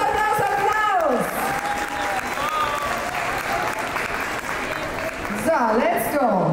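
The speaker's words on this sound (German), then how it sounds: "Applaus, Applaus, Applaus!" An audience applauds and cheers at a dance battle during a fashion-days event, a loud continuous wash of clapping that runs throughout, with voices shouting and talking over it.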